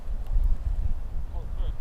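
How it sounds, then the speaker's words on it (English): Wind buffets the microphone outdoors at a windy cricket match, a steady low rumbling roar that persists throughout. "if you hear the wind in the background"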